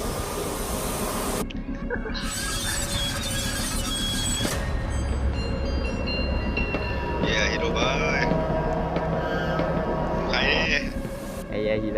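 Train ride in a Roblox video game, a steady rumbling rail noise running throughout with high electronic game tones and cat-like meows over it, under people talking.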